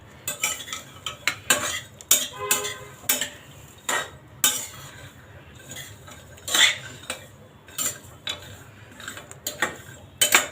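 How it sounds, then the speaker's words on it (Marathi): Half a cup of dried coconut stirred and roasted in a pan with seeds for homemade protein bars, heard as a steady series of sharp utensil scrapes and clinks against the metal, close and fairly loud, with no voices. "आता यातच आपण अर्धी वाटी खोबरं पण भाजून घेऊया।"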